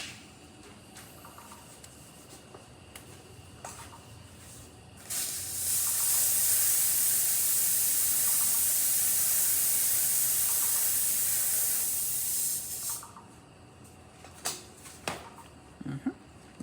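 Milk steamer on a Jura coffee machine hissing loudly and steadily for about seven seconds, bracketed by quieter machine clicks and handling noises.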